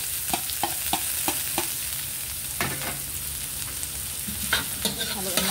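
Garlic frying in a pan, a soft steady sizzle punctuated by a rhythmic series of light spoon taps and scrapes as it is stirred, close and fairly quiet.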